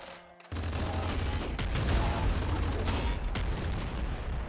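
Hyper rifle in The Binding of Isaac firing in a sustained, dense volley of loud rapid shots after a brief quiet start.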